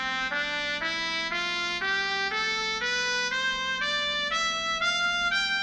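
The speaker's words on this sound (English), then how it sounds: "which has notes that sound like this when they're played by an electronic trumpet" An electronic trumpet plays a rising sequence of treble clef notes, about a dozen evenly spaced, bright and steady tones climbing step by step, alone and clear.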